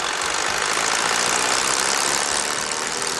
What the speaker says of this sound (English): Allow the engine to idle for a minute or two to warm up.